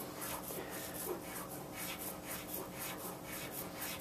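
Blade shaving a burr off a laser-cut steel eye bar, a quiet, rhythmic scraping in repeated short strokes, close and soft with no talk.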